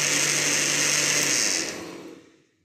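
An electric blender grinds walnuts and bananas for a chocolate walnut milkshake: a loud, close, high whir holds for under two seconds, then spins down and fades to silence.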